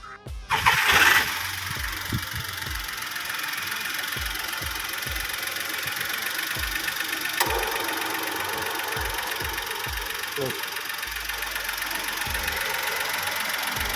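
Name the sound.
1.2 litre car engine starting and idling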